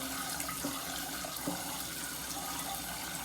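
Water pouring into a pot of rice to rinse it, a continuous splashing, rushing flow with a couple of small clunks, close and steady, no voices.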